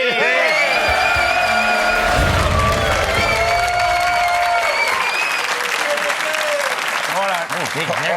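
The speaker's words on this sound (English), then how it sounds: "Oh, there's a big round of applause." A studio audience on a TV sports panel show breaks into loud, sustained applause and cheering, with whoops and shouts over continuous clapping and music-like tones running beneath.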